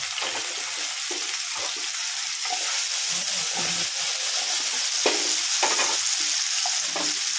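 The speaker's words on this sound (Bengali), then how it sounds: "কচুগুলো ছেড়ে আমি কচুগুলো ভেজে নিচ্ছি।" Taro pieces fry in hot oil: a loud, continuous hiss-and-crackle sizzle, close up, with occasional stirring scrapes and no talking.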